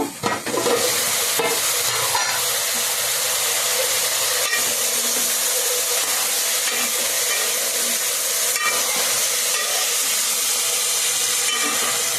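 Bottle gourd pieces cooking in a covered pot, giving a steady, loud hiss and sizzle of steam that carries on without a break and without any talk.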